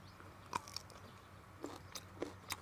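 Crisp bites into crunchy pickled mango dipped in chili salt with dried shrimp paste, a few soft separate crunches spread over a quiet background with no talking.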